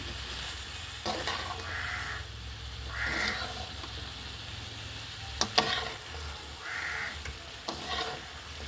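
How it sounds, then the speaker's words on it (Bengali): Taro stolons stir-fried in a pan, a soft steady sizzle with intermittent scraping stirs, moderately close and fairly quiet, with crows cawing in the background. "এটাও আমি কষিয়ে নেব"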